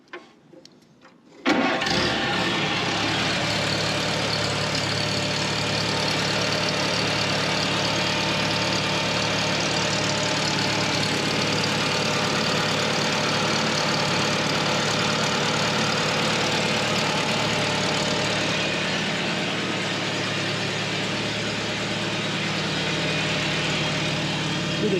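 A 1948 Farmall tractor engine turns over and catches, then settles into a steady, loud idle with the throttle set a little above idle, running alone with no talk.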